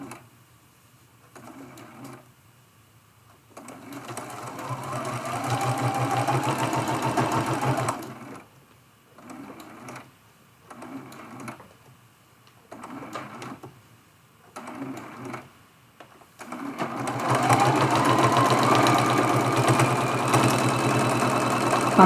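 A sewing machine stitches a quilted ornament, running in short bursts of a stitch or two at a time between pauses around curves, then a longer steady run, close and clear.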